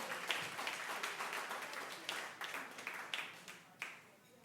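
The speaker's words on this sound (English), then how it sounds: "Round of applause for..." A small audience at a community storytelling night claps in a quiet, scattered round of applause, with individual claps standing out crisply from a soft, uneven patter.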